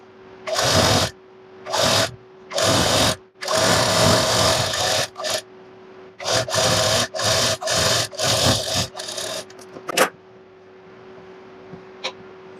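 A sewing machine stitches a palazzo seam in loud, rapid bursts of whirring, stopping and starting about a dozen times, then a few faint clicks and quiet handling at the end.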